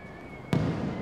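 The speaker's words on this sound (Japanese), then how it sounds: "夏の夜空を彩る花火。" Fireworks burst in a summer night sky at a Japanese fireworks show. A single sharp crack comes midway and leaves a lingering rumble over a steady background hiss.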